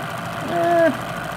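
A Regent Heyer stroboscope distributor tester's motor spins at about 1500 RPM, giving a steady mechanical hum with a thin whine that briefly rises and swells.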